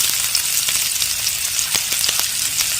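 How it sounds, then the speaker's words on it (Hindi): Chopped onions hitting hot oil already seasoned with cumin and fennel seeds, giving a steady close sizzle with small crackles and a few louder pops, no voices. "तो कटी हुई प्याज को हम डाल देते हैं"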